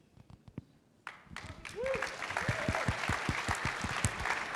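A few scattered claps grow into full applause from an audience for panelists at a business event, with a voice calling out over the clapping.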